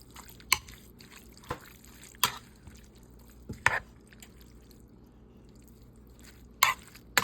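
A 14.5-ounce can of diced tomatoes is stirred in a pot for homestyle spaghetti sauce: soft wet squelches with a few sharp spoon clicks against the pot, close and irregular, with no one talking.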